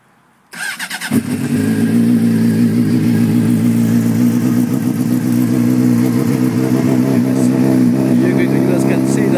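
A Honda CBR motorcycle fitted with a Two Brothers exhaust and a front eliminator kit fires up in freezing 20-degree cold, then settles into a loud, steady, close-up idle with a deep throaty rumble and a few light blips.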